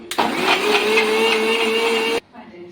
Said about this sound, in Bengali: সমস্ত কিছু দিয়ে আবার ভালো করে ব্লেন্ড করে নিতে হবে।